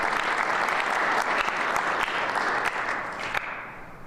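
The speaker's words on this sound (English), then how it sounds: "So let's applaud Dr." Audience at a civic medal of honor awards ceremony breaking into sustained, dense applause, steady and fairly loud throughout before tapering slightly at the end.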